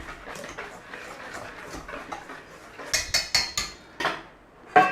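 Dry sugar, salt and cornmeal stirred together in a bowl for air fryer cornbread, giving a run of sharp scraping clinks at close range, several quick strokes and then a louder one at the end, with no one talking.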